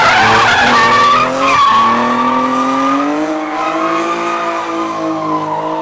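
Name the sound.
car drifting with tire squeal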